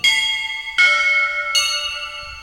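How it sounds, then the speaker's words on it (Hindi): Temple bell voice on a Roland XPS-60 keyboard sounded in D, three bright metallic strikes about three-quarters of a second apart, each ringing with a long shimmering decay. "आपका घंटा इसी डी से बजेगा"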